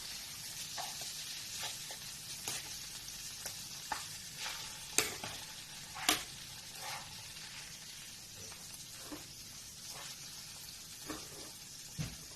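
Lapu-lapu grouper fries in a pan with a soft continuous sizzle, punctuated by sharp pops and scraping clinks of a utensil at uneven intervals, close but fairly quiet.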